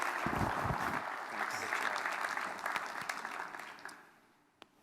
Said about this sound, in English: Let's have a final round of applause for our 2015 On Biodiesel Award winners.